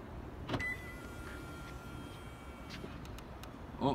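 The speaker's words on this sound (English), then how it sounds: "Now we can close the vehicle up just with the touch of the hand." Power windows on a 2018 Toyota Land Cruiser ZX motoring shut as the vehicle locks, a faint, steady electric whir with a soft click near the start and a brief thump at the end.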